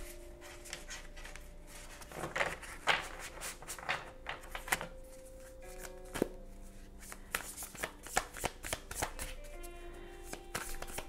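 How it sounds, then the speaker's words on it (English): Tarot cards being shuffled by hand in a quiet room: repeated riffling and soft slapping bursts come in uneven clusters, close and crisp, with brief pauses between handfuls and no talking. "I need to shuffle."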